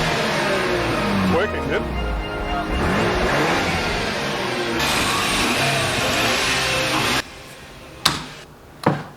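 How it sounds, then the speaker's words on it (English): A modified twin-turbo car engine revs repeatedly, its pitch rising and falling close by, then cutting to a quieter idle with a couple of sharp bursts near the end; a person speaks briefly over it. "I think I'm gonna rev it now. Yes. I'm gonna rev it."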